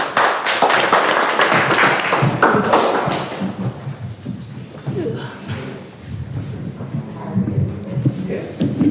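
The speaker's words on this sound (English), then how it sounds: "Let's give him a big round of applause." Applause from the audience at a Preston County, West Virginia school board meeting, a dense burst of many hands clapping that swells loudly for about three seconds, then thins into scattered claps and room murmur before fading.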